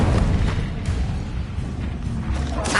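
Incendio fire spell cast in a Harry Potter video game, with a rumbling whoosh of flame and dull bursts, loud and close, swelling at the start and again near the end.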